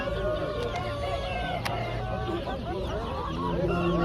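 Chickens and chicks cluck and cheep continuously at a busy poultry market, with overlapping calls from many birds close by and steady crowd noise underneath.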